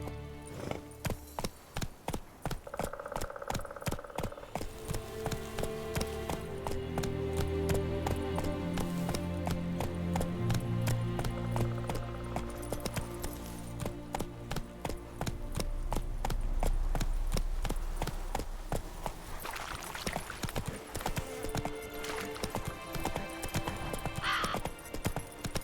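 Roach, a horse in The Witcher 3, gallops continuously with fast, rhythmic hoof clops throughout, under an orchestral game score, with a brief voice near the end.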